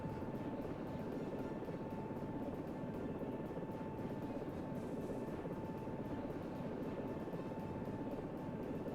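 A helicopter's steady rotor drone and engine whine fill the scene continuously, a constant mechanical rumble at even loudness with no talking.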